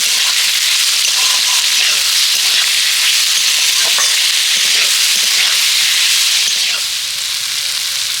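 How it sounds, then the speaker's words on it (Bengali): Ingredients frying in oil with salt for a semolina idli recipe give a steady, loud broadband sizzle throughout, with scattered stirring scrapes and clicks and a slight fade near the end; no one speaks. "তো এগুলোকে আমি তেলের মধ্যে ভালো করে ভেজে নেব একসাথে এবার আমি পরিমাণ মতো লবণ দিয়ে দেব"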